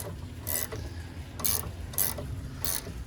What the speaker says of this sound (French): on vient serrer avec une clé de 15